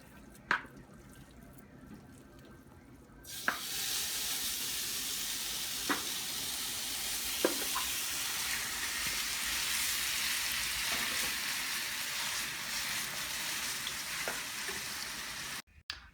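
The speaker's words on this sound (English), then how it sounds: "we can now proceed to add our ground turkey and cook it over medium heat" Ground turkey cooks in a pan over medium heat, bursting into a loud, sustained hiss as it hits the hot surface and sizzling steadily for several seconds, with a few sharp clinks of a utensil before cutting off abruptly.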